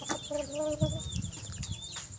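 Chicks and young chickens cluck and chirp nearby amid a busy background of rustling and someone talking.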